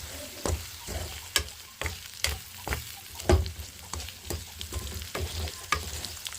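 Potatoes and two eggs fry in a pan as a spatula stirs them, steady sizzling under repeated close scraping strokes.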